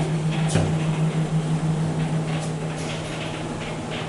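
Slow-moving sliding door of a Schindler 3300 MRL traction elevator at a hotel, a steady low hum and rumble running under faint rattles for several seconds.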